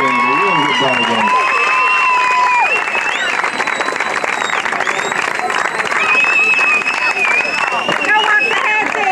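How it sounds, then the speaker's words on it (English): Steady crowd applause for both teams after a ball game, continuous and loud for several seconds, with voices talking and calling out over the clapping. "Y'all give both teams one more big round of applause."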